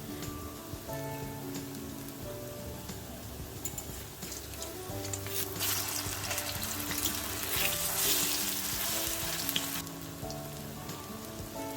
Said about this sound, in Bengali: উল্টে পাল্টে খুব ভালো করে লাল লাল করেই ভেজে নিতে হবে